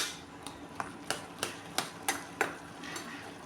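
Ingredients for a Chettinad-style brinjal and peanut kara kuzhambu are pounded in a steady, even rhythm, about eight sharp, close thuds about a third of a second apart, fading a little toward the end.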